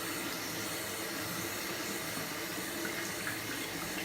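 Water runs steadily and quietly from a tap, a soft continuous hiss of flowing water during washing of eyelash extensions, with no voices.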